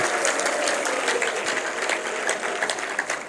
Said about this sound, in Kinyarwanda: tugukomeye amashyi muri iri teraniro